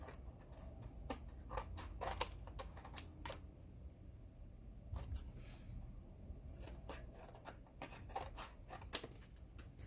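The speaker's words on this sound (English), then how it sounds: "I'm just going to trim away all that excess" Scissors trimming excess paper from a handmade notebook, a run of sharp, close snips in quick irregular bursts with a short pause in the middle.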